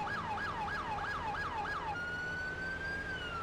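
A modded police car siren in the Police Simulator video game wails in quick rising-falling cycles, then shifts into a long steady tone, loud and unbroken over a constant background drone.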